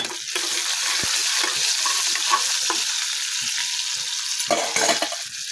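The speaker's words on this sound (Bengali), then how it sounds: "পেঁয়াজটা দিয়ে আমি একটু নাড়াচাড়া করে নিচ্ছি" Onions being stirred and fried in a pan alongside chicken for a curry, a steady close sizzle with scraping spatula strokes scattered throughout and no talking.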